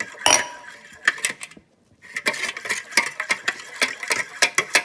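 Milk is mixed into cornbread dressing batter in a bowl, heard as a close, rapid run of utensil clacks and scrapes against the dish, briefly pausing before resuming in quick bursts.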